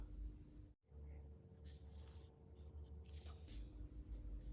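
A pencil draws perpendicular lines on pattern paper while a Hawaiian shirt sewing pattern is drafted, giving soft scratchy strokes in several short bursts, close and quiet.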